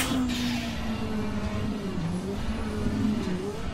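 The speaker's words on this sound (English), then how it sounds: "It looks like it's one of the betas, the Lancia betas." A Lancia Beta rally car engine drones steadily at close range, its pitch wavering and dipping slightly as it races past, loud and continuous with no talk.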